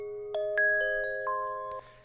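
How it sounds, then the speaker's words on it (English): Synthetic gamelan tones with strong mid-range, struck in a short sequence of bright metallic notes that ring on together as sustained chimes, clear and alone with no voices. "I doubled a synth gamelan, which has a lot more mid-range"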